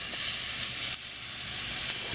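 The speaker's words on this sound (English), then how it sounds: "I'm adding in now the garlic. Just saute it down." Garlic sautéing in oil in a pan, a loud continuous close sizzle with a bright hiss that barely changes, no voices over it.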